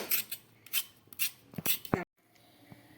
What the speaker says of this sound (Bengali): আমি এই যে সবজিগুলো কাটছি কেটে নিই